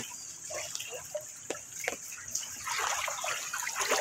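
Clear water trickles and splashes through a channel toward a rice paddy behind a house during a typhoon, with scattered drips early on, then a fuller, steady gurgling flow near at hand.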